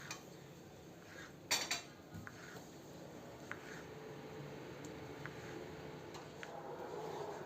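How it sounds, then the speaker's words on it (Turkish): Sausages being sliced with a knife for a Sunday family breakfast, giving soft scattered clicks and scrapes against a plate or board with one louder clatter of utensils, in a quiet kitchen with no talking. "sosislerimizi doğruyoruz"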